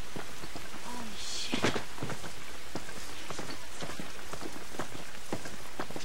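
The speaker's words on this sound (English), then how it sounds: "This rain ain't gonna do us any good." Steady rain falling in the video game The Last of Us, a constant wash of rainfall throughout with scattered drops and patter.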